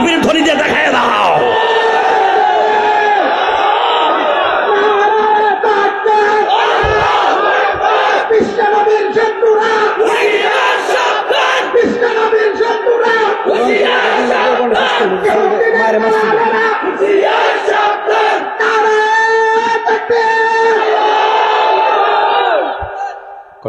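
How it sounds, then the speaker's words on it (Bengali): A large crowd at a religious gathering shouts takbir chants in loud, repeated, roaring waves of massed voices that carry on steadily for over twenty seconds. "তাকবীর ধ্বনি দিয়ে দেখায় দাও"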